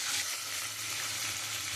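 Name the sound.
prawns frying in oil in a wok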